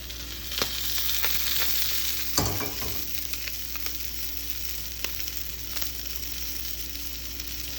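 Fish fries skin side down in a pan over low heat, giving a steady close sizzle with a few light clicks and one louder clatter partway through.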